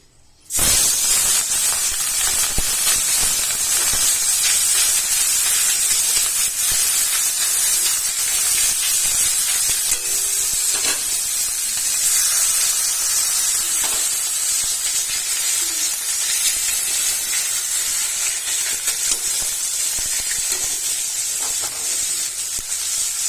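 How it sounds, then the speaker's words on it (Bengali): Fish frying in hot white oil in a wok, giving a steady, loud hissing sizzle that starts abruptly and carries on without a break, with no talking. "কড়াই গরম হয়ে গেছে, তেল দিয়ে দিয়েছি। এবার আমি মাছগুলো ছেড়ে দেবো।"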